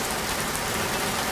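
Steady rain pours outside, a dense even hiss of drops on surfaces filling the moment with no voices, close and constant throughout.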